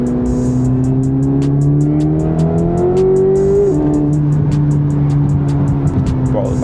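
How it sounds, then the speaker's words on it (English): Loud, close turbocharged Corvette C8 ZR1 engine with a turbo whine, pitch climbing as it revs, then easing and holding steady, with faint chatter underneath. "I love those turbo noises."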